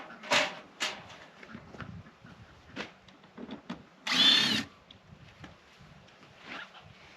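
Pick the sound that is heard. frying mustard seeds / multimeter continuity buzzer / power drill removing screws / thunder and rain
power drill removing screws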